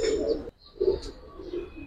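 Pigeons, Giribaz and Indian Kaldam breeds, cooing in soft low repeated coos in a loft, with a brief pause before the calls resume, close and moderately quiet.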